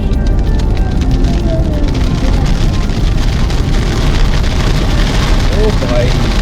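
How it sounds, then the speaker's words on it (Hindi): Rain heard from inside a moving car on a family road trip from Gurgaon to Ayodhya: a loud, unbroken roar of rain drumming on the car body mixed with road and engine noise. "अब देखो बारिश।"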